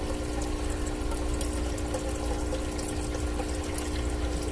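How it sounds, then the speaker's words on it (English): Water drains steadily from an aquaponics grow bed, a constant rushing gurgle with a faint tonal pump hum beneath it, loud and unbroken throughout. "since it's starting to drain, water should siphon very shortly"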